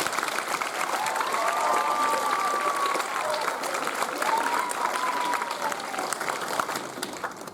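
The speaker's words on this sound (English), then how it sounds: "one more round of applause for our 7th and 8th grade concert team" Steady applause from a school spring band concert audience fills the room, sustained clapping with a few faint whoops mixed in.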